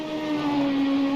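Classic Formula 1 race car in rFactor 2 braking into Aqua Minerale at Imola, its engine holding a steady droning whine through the short stretch, close and continuous with no speech.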